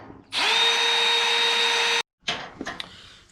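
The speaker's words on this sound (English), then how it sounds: "So I'm gonna get this one drilled out here." A power drill bores out a spot weld on a car's core support, whining loudly and steadily for under two seconds before stopping, followed by a few brief clicks and a short spin-up.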